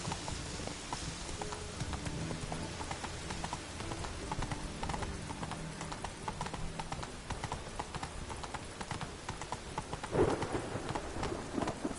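Roach, the horse in The Witcher game, gallops with fast rhythmic hoofbeats under steady rain and rolling thunder, loud and continuous, with no talking.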